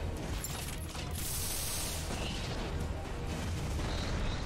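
Missile fire in the mech video game MASS Builder, a continuous rumbling barrage of booms and bursts with a high whistling streak, fairly quiet and steady throughout.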